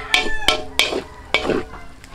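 Ground pork frying and browning in its own rendered fat while cooked outdoors, with loud sizzling and about five sharp stirring scrapes at irregular intervals, close and without talk.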